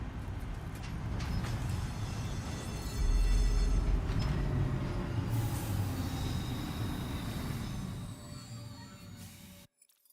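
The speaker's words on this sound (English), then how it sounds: "Monorail has arrived at its destination." A monorail train in the Death Stranding 2 video game rolls in and arrives, a steady loud rumble of rail and motor noise that swells midway, then fades and cuts off near the end; no talking.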